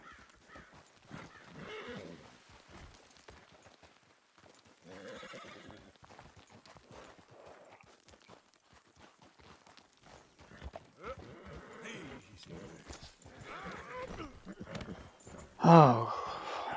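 A horse in a video game whinnies and its hooves clip-clop irregularly, moderately close, with a louder neigh near the end and someone talking over parts of it.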